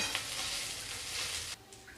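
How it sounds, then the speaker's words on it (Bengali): Ginger and onion fry in a pan, a steady close sizzle with stirring that runs throughout, easing briefly near the end. "আদাটা আমি ভালো করে ভেজে নিয়েছি পেঁয়াজের সাথে"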